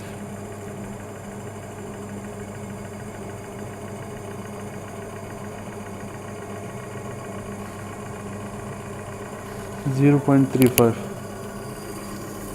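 A series-excited DC motor runs in a lab test setup, producing a steady low hum and whine that continues throughout. A brief burst of speech comes near the end over the motor.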